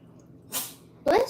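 A single sharp sneeze bursts out close by, a breathy hiss followed by a short voiced snap, after a brief intake of breath.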